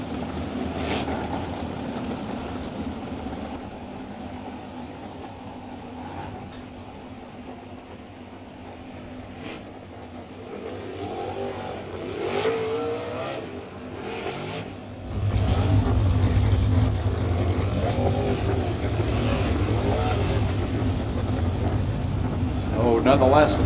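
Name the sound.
race cars racing on a track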